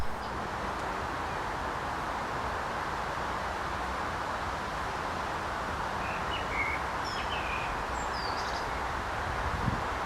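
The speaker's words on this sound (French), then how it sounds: "le chant des oiseaux c'est quand même assez agréable" Birds singing outdoors in the French countryside, a few faint chirps and short whistled phrases scattered over a steady background hiss of breeze and rustling.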